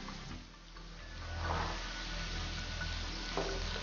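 Carrots, green peas, beans and corn sauté in a hot pan, a steady moderate sizzle and hiss with soft stirring scrapes and no voices.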